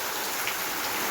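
Rain falls steadily in a windy storm outdoors, making a dense, even hiss at moderate loudness with no voices.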